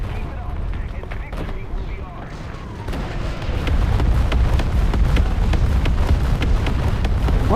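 Tank gunfire and battle rumble from the War Thunder Mobile game, with a Sherman IC Firefly and its long 76mm gun, a dense continuous low roar with repeated booms and impacts, loud and close throughout.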